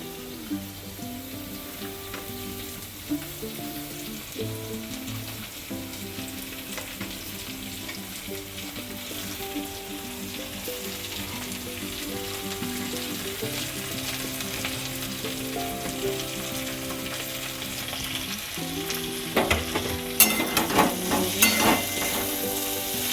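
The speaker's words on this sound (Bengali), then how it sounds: "আলুটা ভাজা ভাজা হয়ে গেছে, এবারে পেঁয়াজটা" Potatoes and onion fry in a little oil in a pan with a steady, close sizzle throughout, and a few sharper stirring clatters toward the end.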